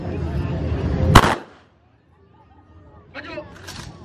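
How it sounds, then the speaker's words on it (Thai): Simulated gunfire bursts at an air force base demonstration during a children's day event in Ubon Ratchathani, Thailand: a loud sharp blast near the start over crowd noise and an announcer, then quiet, then further rattling bursts. "ยิงหลอกทางซ้ายระวัง"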